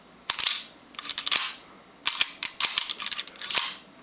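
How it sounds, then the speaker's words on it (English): A SIG pistol slide is racked repeatedly without lubrication, giving sharp metallic clacks and scraping, grinding metal-on-metal bursts in several quick groups, close and fairly loud with no talk. "You can hear all the metal rubbing against each other in there, grinding up."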